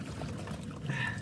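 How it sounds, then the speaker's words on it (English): Gold prospecting concentrates are dumped into a gold pan beside the South Yuba River, a short, close pouring rattle of wet gravel and sediment that swells near the end. "Take our cons, dump them into the pan"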